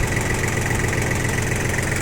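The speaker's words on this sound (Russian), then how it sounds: "очень и очень хорошо работает двигатель, никаких нет замечаний по выхлопу" Cold diesel engine of a Yanmar FX18D mini tractor idling, a steady close rattling drone with a dense knocking texture and constant loudness.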